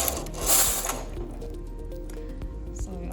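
Carriage of a domestic knitting machine sweeping across the needle bed to knit a row, a steady mechanical whirring and clattering with a brief louder surge at the start and small clicks, close by.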